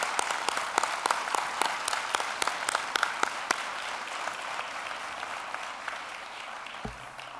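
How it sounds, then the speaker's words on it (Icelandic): Audience applauding a group of graduates at a school graduation ceremony, sustained clapping with sharp individual claps early that settles into a steadier, softer patter. "Þá skulum við bara klappa fyrir þessu glæsilega hóp."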